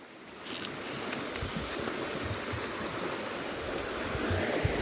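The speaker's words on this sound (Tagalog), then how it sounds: "Ay, lakas ng alon." Strong sea waves wash steadily along a shoreline at low tide, a continuous broad roar of surf with some wind buffeting the microphone, no talk heard.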